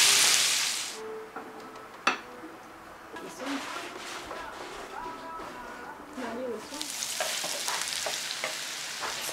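Sausage and vegetables for orecchiette fry in a pan, a soft sizzling hiss with occasional stirring clatter, swelling toward the end, while someone talks throughout.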